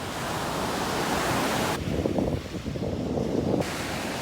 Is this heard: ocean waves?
yes